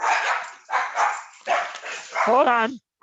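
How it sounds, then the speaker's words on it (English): Dogs bark indoors in loud repeated bursts, about four barks spaced out, ending with a yelp, while a person speaks briefly amid the noise. "I think my dogs are going to lose their minds."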